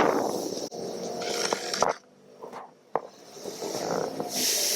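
Spray can of primer hissing onto a 3D-printed model in several bursts, close and fairly loud, with brief pauses and small handling knocks between sprays.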